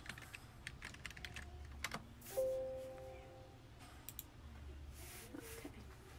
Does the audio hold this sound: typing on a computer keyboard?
yes